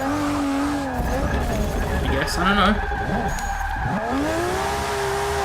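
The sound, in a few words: car drifting and tire skidding in Forza 6 video game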